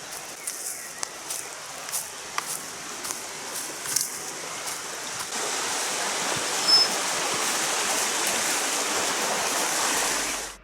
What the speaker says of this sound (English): we found the river